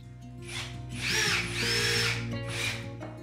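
A power drill drives screws into the timber of a sofa bed frame, whirring up to a strained, rising pitch in two short bursts with a brief pause between them.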